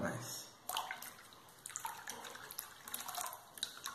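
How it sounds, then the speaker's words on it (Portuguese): Hand being lowered into a basin of warm water for physiotherapy after a metacarpal fracture: splashing and sloshing water with small drips, close, over a steady background hiss. "vou enfiar a minha mão aqui dentro dessa água e deixar ela aquecendo aqui por alguns minutos"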